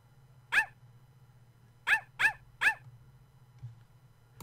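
Cartoonish dog in the video game Mr. Snoozleberg barks four times, one sharp bark followed after a pause by three quick ones, loud and close over a low steady hum.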